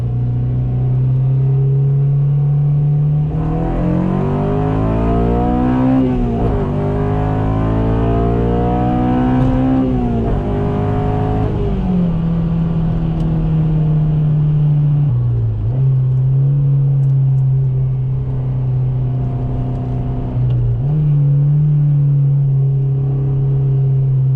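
A 2007 Honda Civic Si with 200k miles drones loudly from inside the cabin as it accelerates, engine pitch climbing steadily then dropping at each gear change, repeated several times over a continuous rumble.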